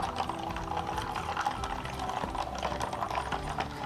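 A hand-cranked die-cutting and embossing machine with a textured embossing folder passing through, giving a steady, close mechanical ratcheting and grinding clatter that runs continuously without talk.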